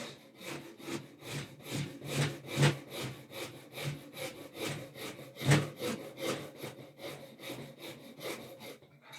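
Hand-carving a wooden guitar body at a luthier's bench: a steady, rhythmic run of rasping, sawing strokes on wood, close and fairly loud, with no talk over it.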